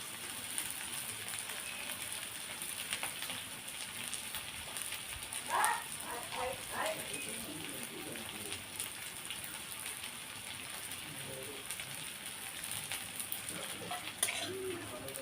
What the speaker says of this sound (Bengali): পেঁয়াজটা লঙ্কাটা একদম হালকা ভাজা ভাজা হয়ে গেছে